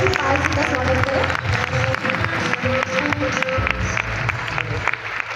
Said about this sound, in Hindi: मैं चाहूँगी जोरदार तालियों से करतल ध्वनि से आप प्रफुल्ल पाल जी का स्वागत करें।